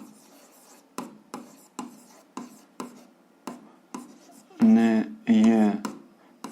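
Pen strokes writing out an algebra solution come as a series of short, scratchy bursts in an uneven rhythm, close and fairly soft, with a voice speaking briefly near the end.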